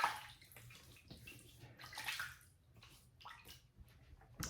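Water splashes and drips as hands wet the face before a double-edge safety razor shave. The sound is irregular, close and fairly quiet, with no talking.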